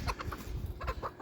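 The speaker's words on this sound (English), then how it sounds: "Chickens are getting upset." Chickens clucking and squawking in agitated bursts at close range, several birds calling over one another in an uneven, restless rhythm.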